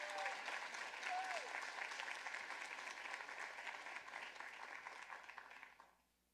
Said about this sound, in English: let's first welcome Jesse Mayhew to the stage with a round of applause